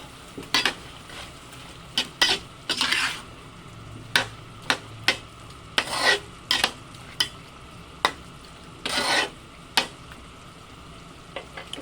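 Buttered chicken adobo stirred in a frying pan, a series of repeated scraping and clinking strokes at an uneven rhythm over a soft, steady sizzle, close by with no talking.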